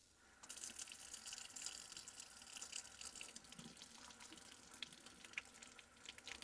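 Water pours steadily from a watering vessel onto a house plant indoors, a faint continuous splashing trickle that runs alone for several seconds.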